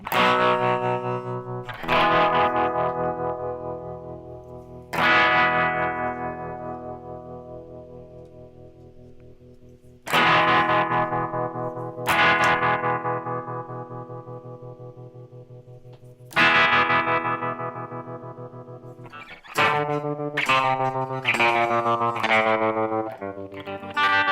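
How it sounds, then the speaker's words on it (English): Electric guitar chords ring out through a Boss tremolo pedal with a pulsing effect, each strum decaying in rapid volume throbs, played alone with a quicker flurry of strums near the end. "It's just a really cool tremolo."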